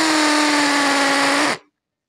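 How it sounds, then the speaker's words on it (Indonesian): A Nanwei cordless drill with an 8 mm bit at speed setting 2 bores into a hard paving block. It gives a loud, steady motor whine for about a second and a half, then cuts off abruptly into silence. "Apabila kita gunakan untuk mengebor bahan keras seperti ini"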